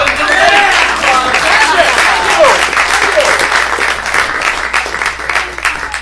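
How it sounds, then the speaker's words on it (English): Audience applause at a magic show fills the room with dense, steady clapping and some cheering from start to finish, loud and close. "Exactly. Give it a round of applause."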